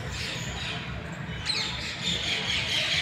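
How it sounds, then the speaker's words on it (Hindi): Birds chirping and squawking at an old stepwell in Rajgarh, Alwar, a steady outdoor chorus of calls, with a brighter burst of chirps about halfway through and over a low rumbling background. "पक्षियों की चहचहाहट, पक्षियों का कलरव, बहुत मज़ेदार मस्ती करते हुए पक्षियों की आवाज़"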